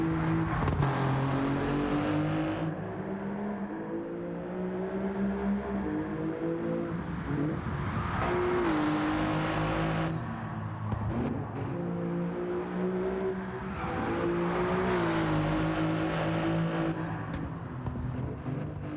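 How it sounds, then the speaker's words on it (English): An Alfa Romeo Giulia GTAm engine in the video game Gran Turismo 7 revs repeatedly, rising and falling in pitch with a throaty growl and gear shifts, loud and close throughout. "that engine note is absolutely incredible. It's such a throaty grunt and growl."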